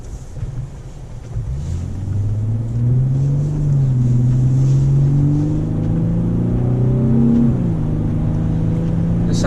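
A Lexus GS350 F-Sport sedan's engine accelerates, a steady droning note rising gradually in pitch over several seconds, loud and continuous with wind and road noise underneath.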